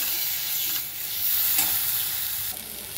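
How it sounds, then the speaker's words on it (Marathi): Tomatoes sauté in a spice masala for a Satara-style black ghevda dal amti, making a loud, hissing sizzle with a few soft stirring strokes and a brief burst near the middle. No talking. "आता हे टोमॅटो सुद्धा आपल्याला ह्या मसाल्यामध्ये परतून घ्यायचे."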